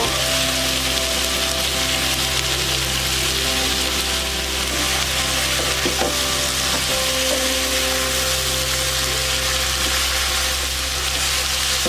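Vegetables for chicken fried rice stir-fry over high heat, a loud, continuous broad hiss of frying under a steady low hum from the stove or extractor, with a few faint clicks of a utensil.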